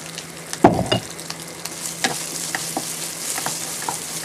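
Red curry paste stir-fried in a pan over medium heat for a Thai pork-bone curry, with a low steady sizzle, a burst of scraping stirs near the start and scattered soft clinks and spatula scrapes after.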